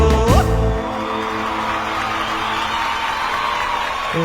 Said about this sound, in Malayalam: കയ്യടിയുടെ ശബ്ദം കുറഞ്ഞു